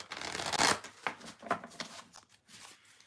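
A deck of cards is shuffled by hand in several quick riffling bursts, loudest at first, then softer flutters, ending with a crisp snap of the cards.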